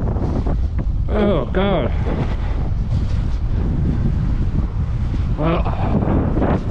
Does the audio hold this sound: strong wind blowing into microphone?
yes